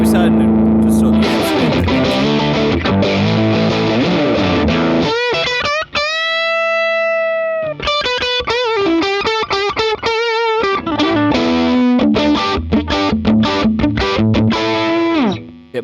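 A custom-built distortion audio effect applied to loud, buzzy tones that glide and shift in pitch, harsh and saturated, with a few brief dropouts between phrases.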